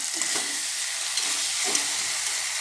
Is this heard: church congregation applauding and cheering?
no